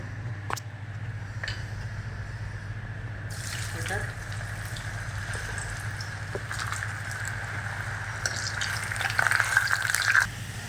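French fries frying in hot oil, a soft continuous bubbling sizzle running steadily throughout with light clinks, moderately close, rising slightly toward the end, with faint background hum.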